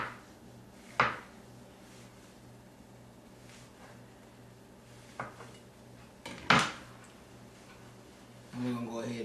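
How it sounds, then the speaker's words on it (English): A knife slicing mushrooms on a cutting board in a home kitchen: a few sparse, sharp knocks of the blade hitting the board, fairly close, under a speaking voice and a low steady hum. "So we'll slice another mushroom up."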